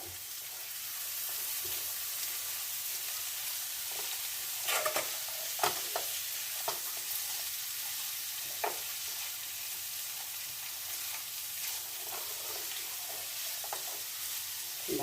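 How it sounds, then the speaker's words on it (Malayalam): Food frying in a pan sizzles steadily while a utensil stirs it, with scattered scraping clicks and knocks over a constant hiss. "ഇതൊന്ന് ഇളക്കുക കേട്ടോ ഇളക്കുക"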